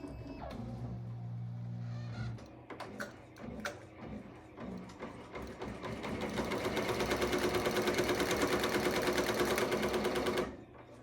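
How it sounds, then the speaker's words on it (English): A Ricoma embroidery machine stitches an embossed design into foam: a low mechanical hum with scattered clicks gives way to a loud, rapid, steady needle chatter that runs for several seconds, then stops abruptly. "So I'm going to hold the start button once I press it. Now my machine is moving over to the number 17 needle."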